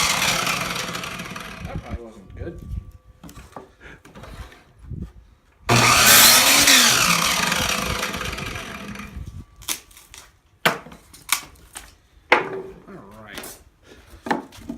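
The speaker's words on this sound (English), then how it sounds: "we're going to take this piece of 1x4 and we're going to cut it into 3/8 inches" Saw cutting a piece of 1x4 wood: a sustained rasping cut in the middle, loud and close, with scattered knocks and handling clatter around it and brief talking.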